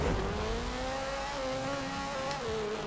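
Race car engine revving and pulling away at the start of a race in Forza Horizon 4, played with a wheel and clutch; a steady, rising engine drone with shifting pitch, continuous and fairly loud.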